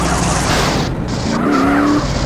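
Batmobile in a PlayStation 2 video game skidding with a screeching tire squeal over a steady engine roar, a short rising squeal standing out near the end.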